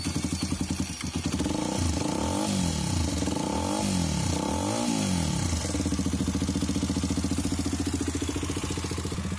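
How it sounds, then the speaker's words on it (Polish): SWM Outlaw 125 scrambler motorcycle with a twin exhaust starting up and settling into a steady, close idle with a few blips of revs early on, heard alone. "Dobra, to może go odpalę, żeby zobaczyć, jak ta dwururka pracuje."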